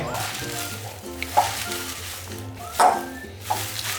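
Seaweed stir-fries in sesame oil in a pan, crackling and sizzling steadily with a few sharper spatters, while a faint tonal background runs underneath.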